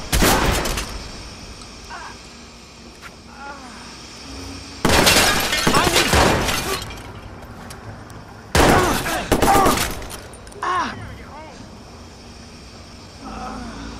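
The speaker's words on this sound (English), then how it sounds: "Shots fired!" Gunfire erupts in the Watch Dogs video game in loud, dense bursts of shots mixed with shattering impacts, separated by quieter stretches where voices call out.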